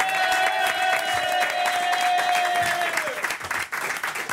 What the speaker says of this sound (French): Applaudissements pour Virginie Lemoine et Stéphane Corbin.